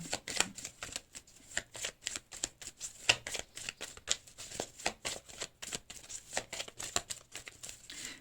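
A deck of tarot cards is shuffled and cut close by, giving repeated quick riffling flutters and soft slaps in an irregular rhythm, fairly quiet with no talking.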